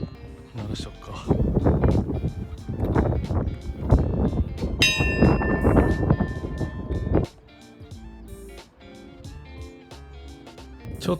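A single strike rings the Bell of Happiness at a lighthouse observation deck in Saiki, Oita, Japan, leaving a bright tone that lingers briefly amid gusty outdoor noise and nearby talking.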